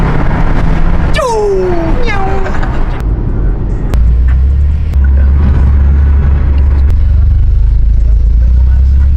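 A VW Golf R cruises onto the highway with a low steady engine and road rumble, interrupted by a few sharp knocks and a brief rising squeal near the start.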